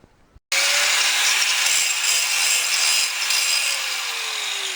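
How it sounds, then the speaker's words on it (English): A flap disc grinding rust and metal on a Land Rover Discovery chassis during patch welding work, starting abruptly after a short pause and continuing as a loud, steady abrasive roar, with no talking. "Now we can get in with a flap disc, clean all this up and start measuring."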